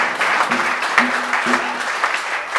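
An audience applauds in a steady, dense wash of clapping that carries through the whole stretch, with faint voice fragments drifting underneath.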